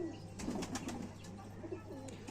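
Low, soft pigeon cooing sits under a steady background hum, with faint rustling throughout.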